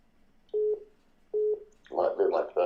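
Telephone tones: two short identical beeps, then a rapid burst of dialing tones, close and clear against a quiet background.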